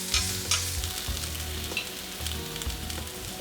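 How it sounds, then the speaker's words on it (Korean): Shiitake mushrooms and green onion stir-frying in a hot pan with herb salt, a steady sizzle broken by repeated scraping strokes of a stirring utensil, close and loud. "볶아지는 중에 저는 허브맛 솔트를 넣고 다시 볶아줍니다."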